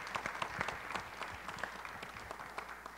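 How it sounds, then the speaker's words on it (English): Audience applause at a public census hearing in Buffalo, a scattered round of hand clapping from a modest crowd, moderately quiet and steady for a few seconds with no talk over it. "Everybody give Jessica a big round of applause for all she does for the Complete Count Commission."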